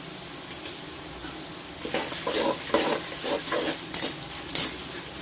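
Spoon stirring spices frying in a pan for tamarind rice with asafoetida and turmeric, soft sizzling under a series of scraping strokes and light metallic clinks, close and moderately loud.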